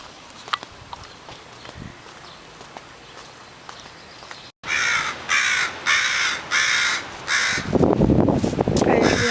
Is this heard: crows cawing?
yes